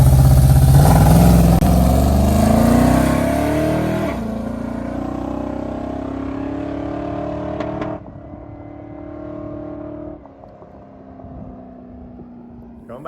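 Big block Mopar drag car on a track pass, a loud engine roar that climbs in pitch, then fades and drops as the car moves away, with popping near the end.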